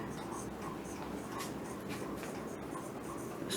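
Marker or chalk writing on a classroom board during a Hindi maths lesson on LCM and HCF, a steady scratchy scribbling texture running continuously at moderate level with faint room noise.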